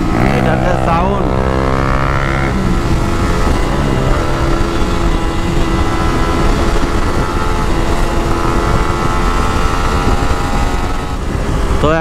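A Suzuki GSX-R150 motorcycle engine and exhaust sound loud and close, revving up at first and then holding a steady, rough, throbbing idle.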